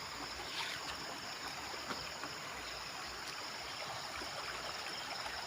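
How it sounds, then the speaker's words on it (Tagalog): Steady rushing water, like a river flowing, holds a constant level throughout with no voices. "Parang ilog."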